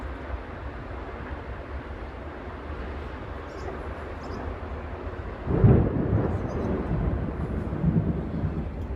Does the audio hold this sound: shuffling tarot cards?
no